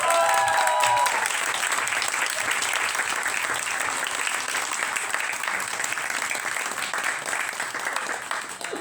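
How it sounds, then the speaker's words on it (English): An audience at a book launch conversation gives a steady round of applause, a dense, continuous patter of many hands that fades slightly toward the end. "let's give Megan a huge round of applause"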